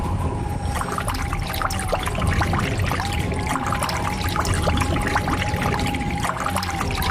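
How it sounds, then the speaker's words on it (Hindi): Water trickles and pours steadily from beneath someone lying on the ground in a forest at night, a continuous splashing dribble with no talking over it. "अरे क्या तुम्हारे नीचे से पानी कहाँ से आ रहा है?"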